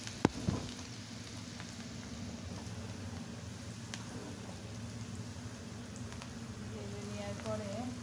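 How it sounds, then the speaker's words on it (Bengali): Dried chili powder and turmeric powder fry lightly in a pan for a Bengali pangas fish curry, a soft, steady sizzle with a couple of sharp clicks and clinks near the start and faint kitchen noise. "তখন আমি শুকনো মরিচের গুঁড়া পরিমাণ মতো দিয়ে দিচ্ছি, হলুদের গুঁড়া পরিমাণ মতো দিয়ে দিচ্ছি। এটা হালকা ভেজে নেব।"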